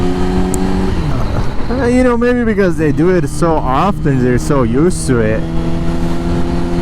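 A 2020 Yamaha R6 motorcycle engine drones steadily while riding, rising and falling in pitch through gear changes under a rider talking over it, loud and close with wind.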